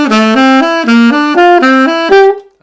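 Ordinary diatonic triads step up and down by seconds as a sequence of five bright, sustained chords. Each one rings at an even pace, loud and close, with no talking, and the last chord fades away.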